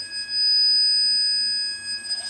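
A REM pod ghost detector sounds a continuous high-pitched electronic alarm tone steadily for a couple of seconds, loud and close, with faint background noise, in an abandoned mansion.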